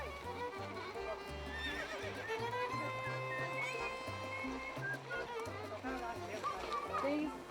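Ponies on a mountain trail to Taksang neigh and whinny over steady hoof clip-clops, with people talking and calling out nearby throughout.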